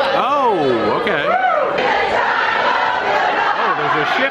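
A crowd sings along loudly and close at a silent disco on the Celebrity Apex cruise ship, with many voices holding wavering, melodic lines together amid cheering and chatter.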